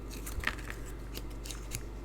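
Scissors snip through paper while fun fold cards are cut out for card making, giving a few quiet, brief crisp cuts over a steady low hum.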